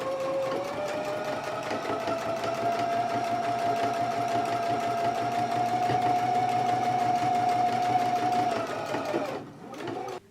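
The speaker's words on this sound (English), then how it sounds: "we can go to the machine and we need to stitch our facing closed" A sewing machine runs steadily for about nine seconds, stitching a skirt's pocket facing closed along a pressed edge, a loud, continuous rapid whir with a steady motor tone, then stops.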